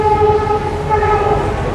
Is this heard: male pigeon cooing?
no